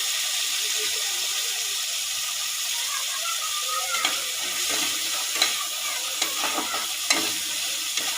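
Green chilies fry in hot oil with a steady, close hiss, marked by a few sharp crackles and spits toward the end for a village-style whole masoor dal dish. No voices.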